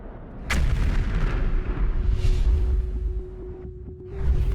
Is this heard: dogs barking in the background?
no